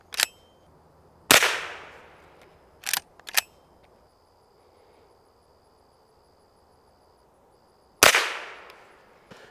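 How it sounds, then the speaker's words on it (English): Several sharp shots from a Henry lever-action .22 rifle firing CCI .22 Long Rifle rounds, loud and near, each crack trailing off, with a quick pair in the middle and long gaps between. "we're gonna start out with some CCI 22 long rifle fired out of our Henry lever action 22"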